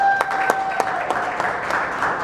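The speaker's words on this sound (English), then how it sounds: "let's give a warm Paterson Poetry Festival round of applause for Cav and Carry Press" Applause at the Paterson Poetry Festival reading, a crowd clapping moderately loud with a few sharp individual claps standing out, over a faint steady tonal hum.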